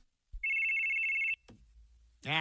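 A single electronic phone ring sounds as a steady tone, followed by a click and then a voice starting to speak.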